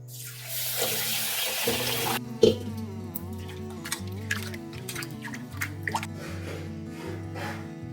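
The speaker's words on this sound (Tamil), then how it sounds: "இப்போ இந்த அரிசியில் நான் தண்ணி ஊற்றுறேன் பாருங்கள்" Water pours onto rice in a steady stream for a couple of seconds, followed by scattered drips, plops and light splashing in a container.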